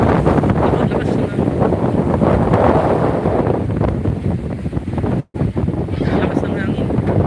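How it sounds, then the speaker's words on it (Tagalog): Strong wind buffets the microphone in a loud, continuous rush with gusty surges, briefly cutting out near the end before resuming. "Para pong lakas ng hangin."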